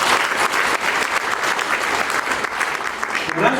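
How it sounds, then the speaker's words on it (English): A crowd at a memorial tribute for the late Onapito Ekomoloit breaks into dense, sustained applause, many hands clapping loudly and close for the whole stretch. "We clap for him."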